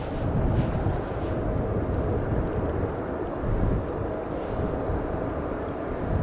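An ITA Airways Airbus A320neo arrives on runway 18R at Amsterdam Schiphol, its low engine roar blending with heavy, buffeting wind noise throughout, steady and fairly loud without any talk.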